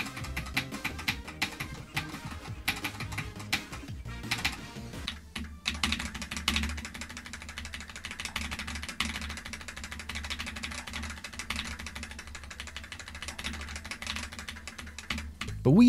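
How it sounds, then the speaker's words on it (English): Typing on a mechanical gaming keyboard, with a steady, continuous stream of clicky keystrokes held close and moderately loud throughout, and no talking over it. "the keyboard is fantastic for that as well. Here, have a listen."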